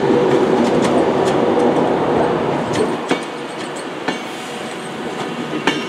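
Class 323 electric train passing, with a loud rumbling roar that fades and gives way to rhythmic clicks of wheels over rail joints, heard up close and without talking.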